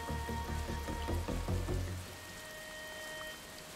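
Steady rain falls across the O'Hara Ranch level of the Desperados 3 video game, a soft continuous patter of drops with low rumbling thuds in the first two seconds, then an even, quieter hiss.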